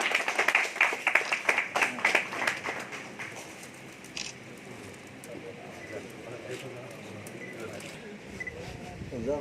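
Press-conference audience giving a round of light applause, crisp hand claps clustered loudly at the start and thinning out, followed by quieter room sound and a voice speaking.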